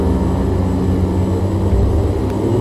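The simulated engine of an OV10 Bronco in a VR flight game, a loud continuous low propeller drone with a faint rising tone near the end, no speech.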